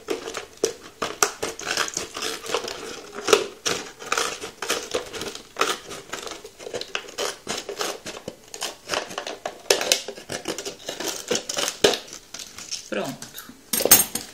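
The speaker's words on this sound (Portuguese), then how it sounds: "você vem com a tesoura aqui, acha o aqui não tem nem como cortar torto, é só acompanhar aqui, ó, o sinal que a garrafa tem" Scissors snip and crunch through a plastic bottle, following its molded line, in a rapid series of close, crinkly cuts with rustling plastic and occasional talk mixed in.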